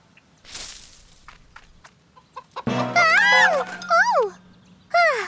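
A chicken clucks in a few sharp, rising calls, close by and fairly loud, after some quieter shuffling sounds.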